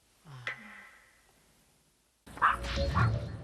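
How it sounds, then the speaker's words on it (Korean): A small, anxious dog that barks at people on walks lets out a short bark and a whimper, then after a pause gives a louder flurry of barks and yips against busier outdoor noise. "사람만 보면 짖느라 제대로 된 산책이 불가능한"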